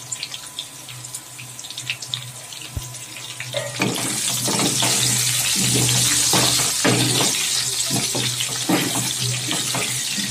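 Potatoes dusted with salt and a little turmeric go into hot oil, and after a quieter opening a loud, dense sizzle bursts up and continues steadily with crackling pops.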